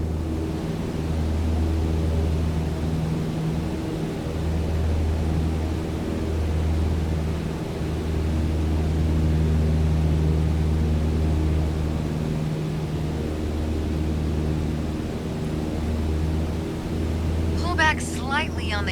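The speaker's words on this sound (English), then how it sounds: "go full throttle and start climbing" A small aircraft in Microsoft Flight Simulator drones steadily at full throttle while climbing, a loud, even engine hum with a low pulsing tone holding for the whole stretch, joined by a brief chirp at the end.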